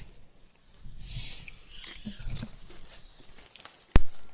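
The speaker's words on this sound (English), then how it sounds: "Whoever's eating, you're driving me crazy." Someone chewing food right next to a microphone during a sports broadcast, soft wet mastication and mouth noises in uneven bursts, close and intimate, ending with a sharp click.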